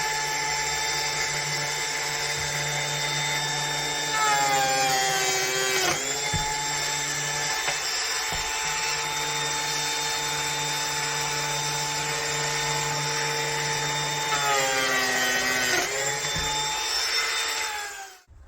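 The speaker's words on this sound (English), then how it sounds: "So we'll go ahead and turn the machine on, offer it to the timber, and do the two cuts." A Lamello joining machine cuts timber for a 90-degree butt joint: a loud, close, steady motor whine that pitches down twice as the blade bites into the wood, then recovers and runs on before shutting off.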